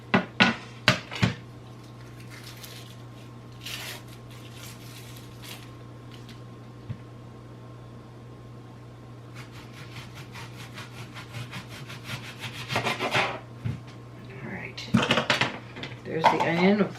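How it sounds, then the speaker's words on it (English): A knife cuts a piece off an onion held in an onion holder. Scattered crisp clicks and scraping taps come at the start and again near the end, with a steady low hum underneath. "Cut me a piece of onion."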